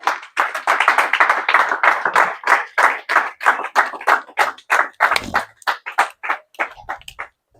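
A church congregation applauds with a dense, loud, steady run of clapping that thins into scattered claps near the end, with no talking over it.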